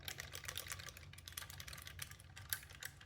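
Clicky keys on a Datahand or Svalboard ergonomic split keyboard clatter in quick, irregular bursts of typing, close and fairly quiet, with no talking.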